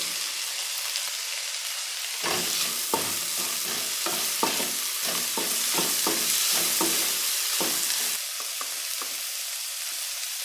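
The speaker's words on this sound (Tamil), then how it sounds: "இதோட நம்ம கட் பண்ணி வச்சுருக்க தக்காளி, கொடமிளகாய் இதையும் சேர்த்துப்போம்." Chopped tomato and capsicum stir-fried in a pan for omelette noodles: a steady sizzle under brisk, rhythmic scraping and clacking strokes of a spatula, busiest in the middle and easing off near the end.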